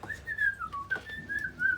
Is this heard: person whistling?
yes